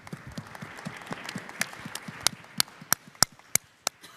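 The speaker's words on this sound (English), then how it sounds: "Give yourself a round of applause." Scattered claps from a small Bitcoin meetup audience in Vancouver, starting as soft, thin patter and thinning into a few loud, isolated claps spaced apart toward the end.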